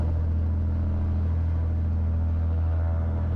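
A Cessna's piston aircraft engine holds steady at 1700 rpm during a run-up before takeoff, giving a continuous, loud, droning rumble with a low throbbing pulse and no voices over it.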